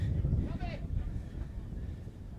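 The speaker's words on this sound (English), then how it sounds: "Windy day here" Low, buffeting wind rumble thumps against the microphone at an outdoor college soccer field, with a brief faint voice-like tone in the background.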